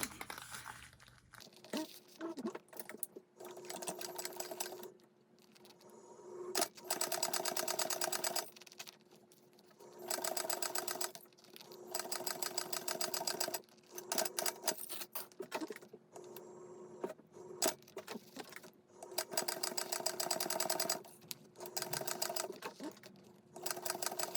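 A sewing machine bastes around the back panel of a small child's backpack, whirring in close bursts of stitching broken by short pauses and fabric rustles.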